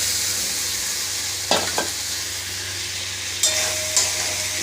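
Spices, raisins and fried jackfruit sizzle steadily in a pan while being stirred, with a few sharp spatula scrapes and taps against the metal over a constant frying hiss.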